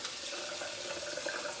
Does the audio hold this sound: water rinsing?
yes